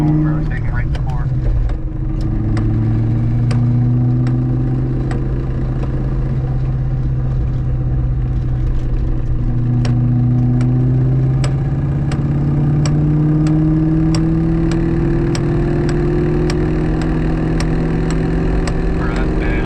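Engine of a Ford Mustang with a broken transmission, second gear failing, driving at steady speed: continuous loud drivetrain drone with rising and falling whine, close up, under people talking.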